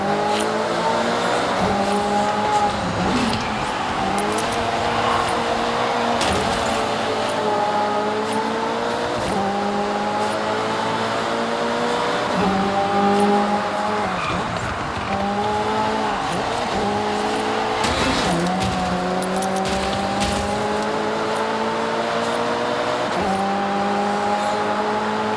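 Race cars in Forza Horizon 6 street racing: engines rev steadily in repeated rising gear-shift sweeps, with occasional tire squeal, loud and continuous, with no talk.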